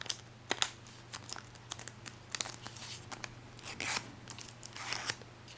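Sheet of paper sharply creased during origami motorboat folding, a quick series of crisp rasping swipes and crinkles at close range, uneven bursts over a low steady hum with no talking.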